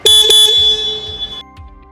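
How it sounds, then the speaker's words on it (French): Horn of a Combi-CB gas/diesel forklift being tested: a loud, steady electronic tone blares in two quick pulses, then holds for about a second before cutting off, close by. "vérifiez que le klaxon et que les lumières fonctionnent"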